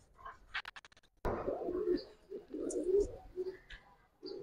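Pigeons of top-quality Giribaz and colored fancy breeds cooing in a bird market, a few low murmuring coos that blend with short chirps and background chatter from people nearby.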